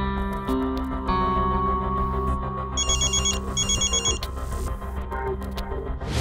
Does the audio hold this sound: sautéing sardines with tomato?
no